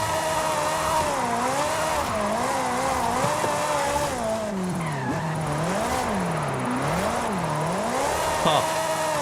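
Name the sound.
Ferrari oversteering and drifting in Forza Horizon 5 video game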